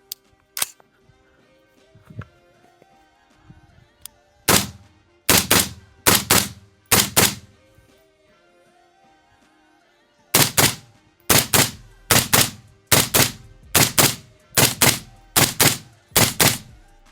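A Daniel Defense rifle fires through a magazine outdoors: a few scattered single shots, then a steady run of loud, evenly spaced gunshots, each booming and decaying sharply, with quiet gaps between bursts.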